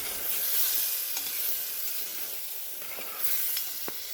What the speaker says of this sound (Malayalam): പതുക്കെ മൂടി മാറ്റിയിട്ട് ഒന്ന് ഇളക്കി കൊടുക്കാം ചെറുതായിട്ട്.